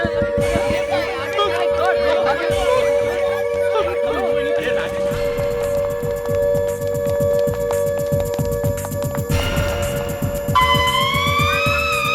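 A loud, steady alarm tone rings continuously from a comedy film scene, with overlapping sounds and music-like textures shifting partway through, while voices talk over it.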